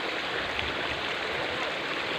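River water flows in a continuous, even rush, a broad steady wash with no breaks and no voices.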